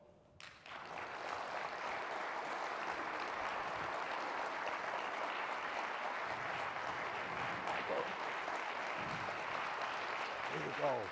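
Sustained applause from a large audience welcoming Secretary of State Michael R. Pompeo and Cardinal Timothy Dolan, a steady dense clapping wash that holds at even loudness for over ten seconds.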